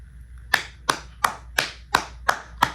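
Seven slow, evenly spaced hand claps from a single person in a quiet room, each sharp and close with a short decay, about a third of a second apart.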